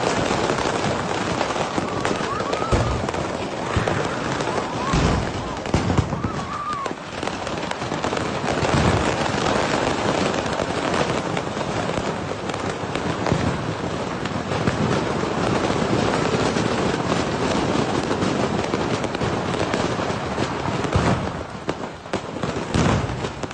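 Continuous dense crackling and popping of fireworks and firecrackers fills the air during a year-end fireworks display, with occasional louder booms standing out against the steady barrage.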